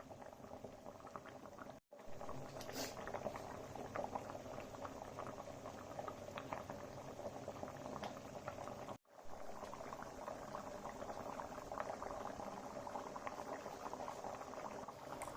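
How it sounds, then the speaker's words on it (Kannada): Tulu-style sardine (buthai fish) curry boiling steadily in a pot, with continuous close bubbling and popping at low volume, broken by two brief dropouts. "ಈಗ ಇನ್ನೂ ಒಂದು 10 ನಿಮಿಷಕ್ಕೆ ಚೆನ್ನಾಗಿ ಸಾರನ್ನ ಕಾಯಿಸೋಣ"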